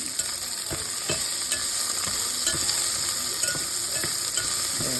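Onions sautéing in a pan give a constant close sizzle, punctuated by repeated scrapes and clicks of stirring, with no talking.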